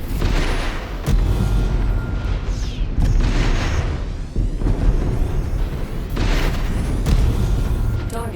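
Mech explosions in Mechwarrior 5, heavy booming blasts that roll continuously through the clip with several sharp bursts on top, loud and dense like close battlefield fire.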